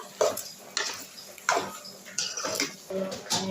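Macaroni being stirred in a pan at home, with a series of close scraping and clattering strokes of a utensil against the pan, irregular and fairly loud, with some wet mixing noise in between.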